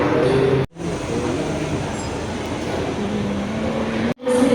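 A BIAS commuter train running between Solo and Sragen gives a steady interior rumble and rolling hum, broken by two brief abrupt dropouts, with faint tonal whines over the noise.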